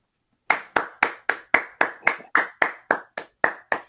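One person claps hands close up after a brief silence, about a dozen sharp, distinct claps in a steady, even rhythm with no other sound around them.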